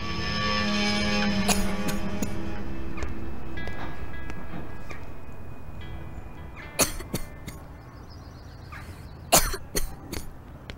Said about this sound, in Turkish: Geçmedi gitti şu öksürük.